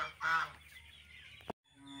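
A loud honk from one of two geese rings out near the start, followed by a quieter drawn-out call and a short thump before it cuts off.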